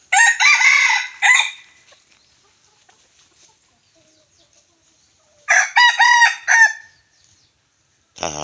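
A young Thai fighting-breed rooster crows loudly and close by, twice, each call a drawn-out strained cry with near silence between them.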